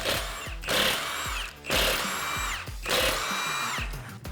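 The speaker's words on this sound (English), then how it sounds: "you're going to use electric impact wrench to remove these lug nuts and pull the wheel off" Electric impact wrench spinning off lug nuts on a car wheel during a brake job, three loud bursts of whirring hammering, each lasting about a second, separated by short pauses.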